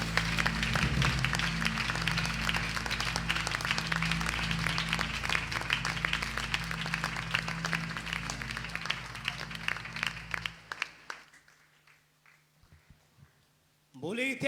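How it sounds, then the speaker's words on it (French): A church congregation claps loudly in steady, continuous applause during a worship service, with voices mixed in, then the clapping fades out near the end. "Nous allons continuer à applaudir fort pour le Seigneur."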